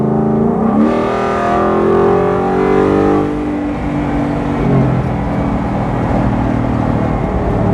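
A custom 1976 Ford Bronco, Fuelie Edition, accelerates hard. The engine note climbs steadily in pitch as it revs up, then settles into a loud, continuous roar close by, with no talking.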